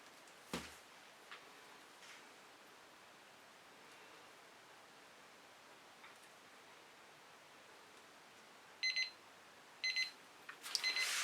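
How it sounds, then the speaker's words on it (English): A timer alarm in a painting studio sounds near the end as a few short beeping bursts after a long quiet stretch with faint hiss and small taps. "When that timer goes off again, you will be gone."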